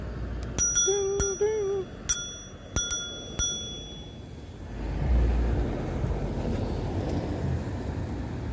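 A bicycle bell fitted to a mobility scooter rings clearly several times in quick, bright dings, then fades into a low outdoor traffic rumble on a street in West LA.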